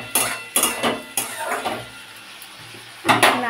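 A metal spoon stirs a snake gourd dish in a pan, scraping and clinking against the pan in several separate bursts with quiet gaps between, close by.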